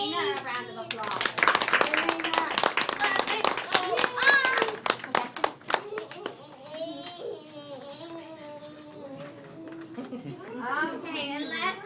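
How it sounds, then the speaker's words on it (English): Applause and clapping from an audience at a children's award ceremony, a burst of hand claps lasting several seconds before a voice and children's chatter take over. "Let's give Elena a round of applause."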